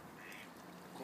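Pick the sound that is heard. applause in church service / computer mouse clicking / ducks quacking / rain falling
ducks quacking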